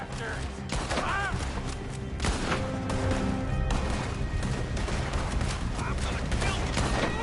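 Rapid gunfire bursts from a shootout in the video game Red Dead Redemption 2, loud and dense throughout, with crashes and thuds under shouting voices.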